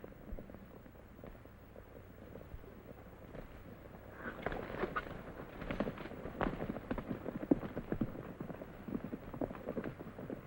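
Horses' hooves clatter and thud near a fence out west, quiet and scattered at first, then busier and louder clip-clops with scuffling in the second half, with no talk.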